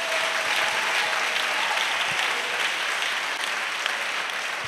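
A church congregation claps in sustained, dense applause that holds steady and loud throughout, with no clear voices over it.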